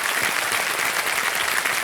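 Studio audience applause on a televised quiz show, dense and steady clapping filling the whole stretch at close range with no pauses.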